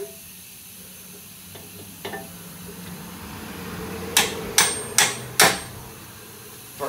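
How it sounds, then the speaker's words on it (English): A hammer taps a bolt while an upper control arm is fitted on a car's independent rear suspension, giving four crisp metallic knocks in an even rhythm, close and loud, over a soft background hiss, with no speech. "Give it a few taps from this side."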